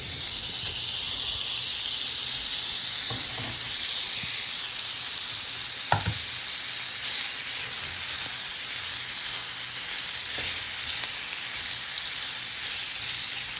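Sausages sizzle and hiss steadily in a non-stick pan with oil and butter, a continuous close frying crackle with a few brief clatters of handling along the way.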